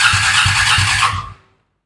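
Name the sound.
Triumph budget sport bike engine starting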